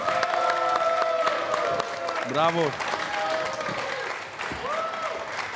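Studio audience applause on a Romanian Wheel of Fortune game show, a steady broadband clatter running most of the clip while a host talks and calls out over it.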